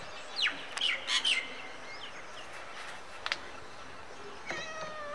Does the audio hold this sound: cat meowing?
yes